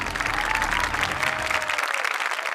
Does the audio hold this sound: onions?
no